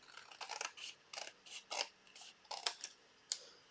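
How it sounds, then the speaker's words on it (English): Scissors snip through card stock along the first score line in a dozen or so quick, close, crisp cuts in an uneven rhythm, with no talk. "this one, we're just going to cut off at the first score line"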